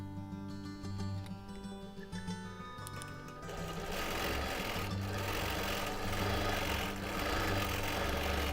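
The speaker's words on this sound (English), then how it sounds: "A few lock stitches." A longarm quilting sewing machine runs steadily while stitching a six-sided Christmas tree skirt, first making a few lock stitches with a fine ticking rhythm, then settling into a fuller continuous mechanical whir, close and fairly quiet.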